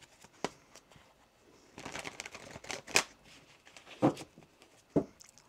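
Several short bursts of riffling and slapping as tarot cards are shuffled, quick papery flutters with small gaps between them, close and fairly quiet.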